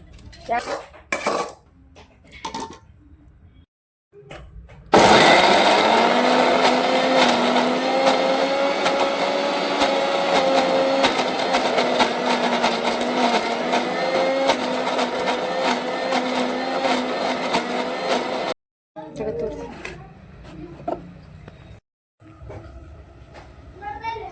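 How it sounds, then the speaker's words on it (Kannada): Some clinks and kitchen clatter, then a mixer grinder roars loudly for about fourteen seconds grinding roasted spices, before stopping, followed by more handling noises. "ನಾವು ಆಗಳೇನು ಮಸಾಲೆ ಎಲ್ಲ ಹುರ್ಕೊಂಡಿದ್ವಲ್ಲ ರೀ ಅವ್ನು ಸ್ವಲ್ಪ ಮಿಕ್ಸರ್ ಹಾಕ್ಕೊಂಡು"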